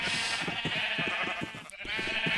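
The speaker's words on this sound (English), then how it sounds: "There's a couple sheep there." A couple of Minecraft sheep give a continuous, wavering bleat up close, with soft rhythmic low thuds beneath and a brief dip before the bleating resumes.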